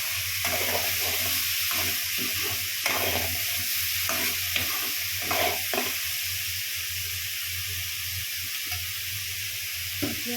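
Chopped banana blossom frying in a hot pan, with a loud continuous sizzle and repeated scraping stirs of a spatula in the first half, then a steady hiss.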